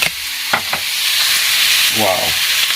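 Fish sizzles in hot oil with garlic, onion and ginger, a loud, steady frying hiss that swells after a few light clinks and stirring sounds near the start.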